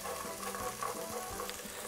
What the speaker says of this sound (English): we want to open up the oils of the garlic and frying up the tomato paste